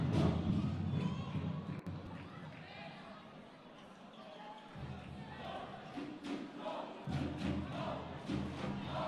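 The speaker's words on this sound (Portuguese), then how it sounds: "a torcida pede o gol, mais um gol" A football crowd at a Pato versus Matelândia match, chanting and roaring steadily in the distance, swelling louder toward the end, with occasional thuds.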